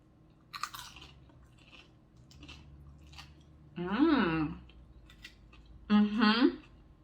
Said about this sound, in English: I'm only gonna be taking a small little bite